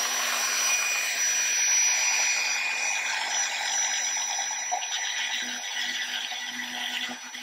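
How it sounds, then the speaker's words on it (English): Rotary tool spinning a diamond cut burr to open gaps on a 1/64 scale wooden model ship, a steady high whine with light grinding, fairly close and easing off toward the end. "to open up these type of gaps is to use one of a diamond cut burr"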